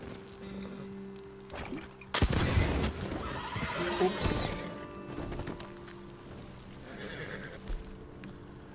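A horse whinnies loudly among hoofbeat clip-clops in the video game Red Dead Redemption 2, with crackling from a burning field and rushing background noise and a brief spoken exclamation.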